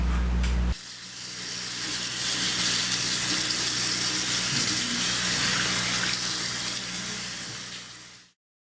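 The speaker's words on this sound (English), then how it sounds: "I'm going to wash my hand and come back." A sink tap starts and runs steadily while hands are washed under it, a loud close splashing hiss that carries through most of the stretch and then cuts off abruptly, no talking.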